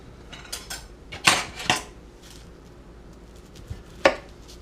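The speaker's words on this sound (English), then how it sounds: "Gonna cut this bad boy open and see how it looks." A knife and fork cut into a freshly baked potato, giving a few sharp scrapes and clicks close by: two bursts early on and one more near the end, with quiet gaps between.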